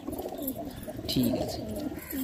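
Pigeons of the Madras kabutor lines cooing in a home loft in the afternoon, low repeated coos close by while someone speaks briefly.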